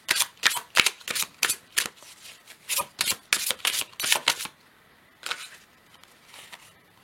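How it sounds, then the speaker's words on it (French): Tarot cards are shuffled in a quick run of sharp, crisp riffles and slaps, close and distinct, then after a pause a few softer flicks as a card is drawn. "je vais tirer notre carte"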